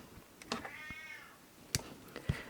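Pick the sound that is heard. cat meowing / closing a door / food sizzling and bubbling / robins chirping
cat meowing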